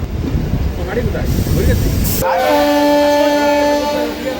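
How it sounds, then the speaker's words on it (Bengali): A local train pulls out of Bahirgachhi halt station, a loud rumbling wash of wheels and noise that gives way to a sustained, tonal horn blast ringing out close by. "বাহিরগাছি হল্ট থেকে আমাদের ট্রেন ছেড়ে দিল।"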